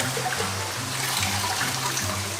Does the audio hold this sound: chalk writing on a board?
no